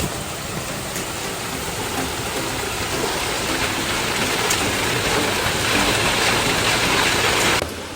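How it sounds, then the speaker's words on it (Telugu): Heavy rain pouring down outside during a stay in Sri Lanka, a dense, steady roaring wash of drops that holds loud and unbroken for the whole stretch, with no talking. "బయట వర్షం కుమ్మేస్తుంది."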